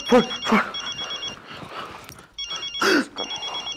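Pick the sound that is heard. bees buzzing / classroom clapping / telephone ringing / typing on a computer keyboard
telephone ringing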